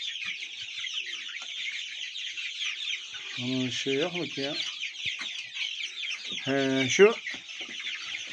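Chickens cluck steadily in a coop kept by a small-scale poultry keeper, a dense flock chatter throughout with a rooster somewhere among them, while a voice speaks briefly near the middle and end.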